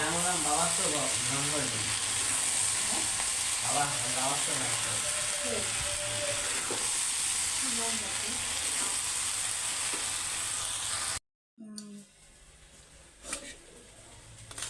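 Greens sizzling loudly in a hot pan while being stirred, a steady hiss with repeated scraping strokes; voices talk over it, and the sound drops out near the end before quieter clatter.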